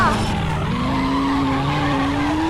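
Tires skid in the driving video game Los Angeles Crime, producing a loud, sustained squeal whose pitch slowly rises over a roaring car engine.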